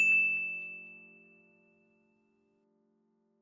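A single bright ding used as a sound cue in an improv exercise rings out clearly and fades slowly over a couple of seconds, followed by silence and a brief click at the end.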